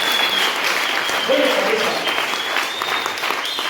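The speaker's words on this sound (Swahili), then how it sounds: "Mpigie makofi ya baraka" A church congregation claps warmly for a guest pastor. The loud, continuous applause runs throughout, with a voice speaking briefly over it.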